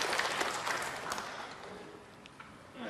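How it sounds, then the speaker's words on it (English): Snooker audience at the 2017 World Cup semi-final, China B against England, breaking into applause for a shot: a soft, steady patter of clapping from a moderately distant crowd that gradually thins out. "this crowd, applauding that shot"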